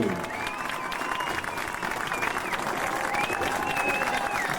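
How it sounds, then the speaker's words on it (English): A crowd at a 1998 New Hampshire Division I high school football state championship applauds the Crimson Tide, with steady, dense clapping and cheering filling the whole stretch and some whistles and voices in the mix. "please give the Crimson Tide a round of applause for their wonderful season and their wonderful play here today"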